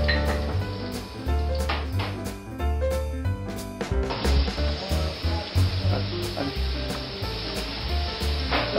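Scampi pulp sizzles in a hot pan with browning onion, a steady, dense frying hiss that continues throughout, close and fairly loud, with faint clinks of utensils.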